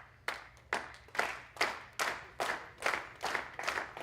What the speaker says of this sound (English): we're gonna clap in 4